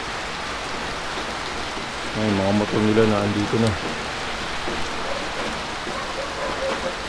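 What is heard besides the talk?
heavy rain during a typhoon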